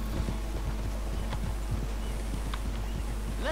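Horse hooves clip-clop in a quick, even rhythm over a constant low hum, moderately close and fairly quiet, in Red Dead Redemption 2.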